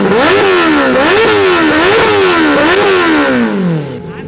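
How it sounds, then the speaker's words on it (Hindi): A motorcycle fitted with a new, loud aftermarket exhaust revs hard and close, its raspy engine tone rising and falling in several throttle blips before winding down to idle at the end. "ये हमारा नया एग्जॉस्ट है एंड हम आपको आवाज सुनाते हैं।"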